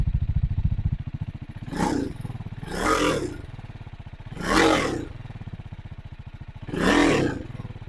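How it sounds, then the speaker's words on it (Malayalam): A TVS Apache RR310 motorcycle idles with a low, steady thumping exhaust pulse, broken by four throaty revs that swell and fall back, close and alone without talk. "ഇതാണ് ഇതിന്റെ എക്സോസ്റ്റ് സൗണ്ട് ഉള്ളത്."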